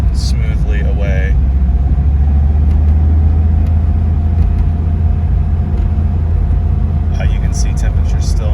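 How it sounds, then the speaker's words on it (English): A six-speed Chevrolet Camaro Z28 with low mileage pulls smoothly in third gear on a cold day, its engine giving a steady, loud, low drone with road rumble. Speech is faint underneath at the start and end. "this is, again, third gear. You can see it pulls smoothly away"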